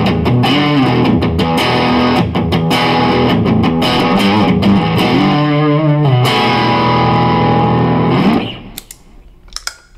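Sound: electric guitar with heavy distortion and delay from pedalboard

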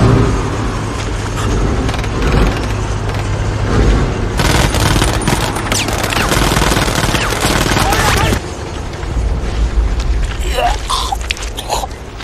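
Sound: Nazi soldiers firing guns in a war film

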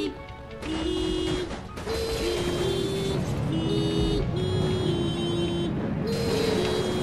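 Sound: klaxon horn sounding in a video game (Naut)

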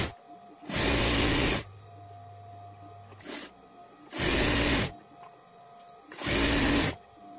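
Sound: sewing machine stitching blouse strips

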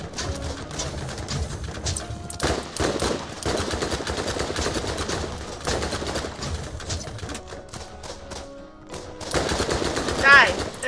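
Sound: gunfire in video game Borderlands

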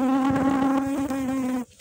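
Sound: bee buzzing

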